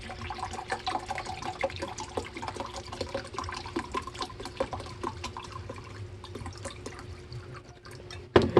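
White vinegar, two cups for cold-packed bread and butter pickles, pours steadily into a container as a continuous close splashing trickle that ends with a few clunks, no voices.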